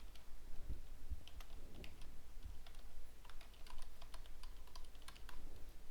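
Someone types an email address on a computer keyboard, a fast run of crisp, close key clicks with uneven rhythm and a few heavier thumps, steady for about six seconds with no talking.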